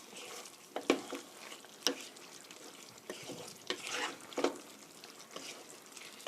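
Chicken tteokbokki is stirred through its sauce in a pan over low heat, with soft sizzling under a series of intermittent scraping strokes and sticky spatula clicks, close but fairly quiet.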